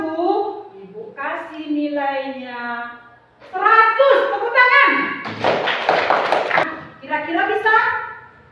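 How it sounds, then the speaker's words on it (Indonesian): A classroom of schoolchildren bursts into a short round of applause during a mathematics lesson on fractions, with a dense clatter of many hands clapping for about two seconds between stretches of a teacher's speech. "Tepuk tangan."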